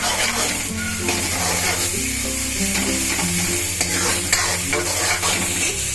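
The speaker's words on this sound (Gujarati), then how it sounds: "કોબીજ અને ગાજરનું જે મેં ક્રશ કરેલા છે, ઝીણા ઝીણા સમારેલા નથી, ક્રશ કરેલા છે, તો એ આપણે એમાં ઉમેરી દઈશું." Crushed cabbage and carrot added to a hot pan and stirred while frying, a loud continuous sizzle with repeated spoon scrapes, all under steady background music and no speech.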